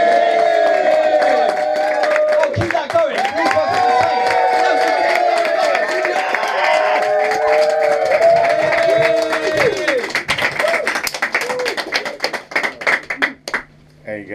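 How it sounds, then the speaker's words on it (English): A comedy club audience at a headline gig in Ipswich claps and cheers loudly, the applause swelling and then thinning out toward the end, with a voice calling out over the crowd. "shall we start clapping like you want a headline act?"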